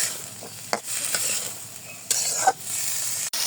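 String beans frying with turmeric and salt give a soft, steady sizzle with a few scraping stirs of a spatula scattered through, close and unaccompanied by talk.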